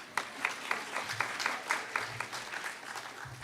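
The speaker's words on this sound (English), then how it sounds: "So a big round of applause to yourselves for looking so great." Applause from the audience at a youth work excellence awards ceremony, a modest scattering of claps with a few sharper individual hits, fairly faint and with low murmuring voices underneath.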